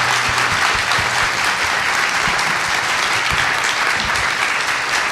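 An audience at an evening library panel event on suppression orders in Victoria claps to thank the panellists, dense sustained applause filling the room, loud and even throughout.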